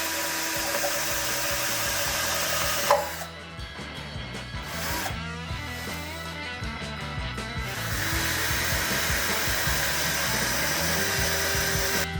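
A power drill whines steadily and strains as it bores tightly through hard plastic, the motor pitch wavering and dipping under load, continuous and close.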